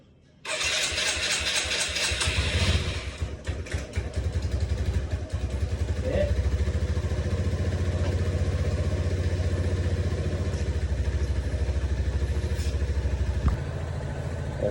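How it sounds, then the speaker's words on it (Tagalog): A motorcycle on its center stand cranks and fires up, then settles into a steady, close idle that runs on evenly for the rest of the stretch. "Okay, andar na itong motor, itong unit."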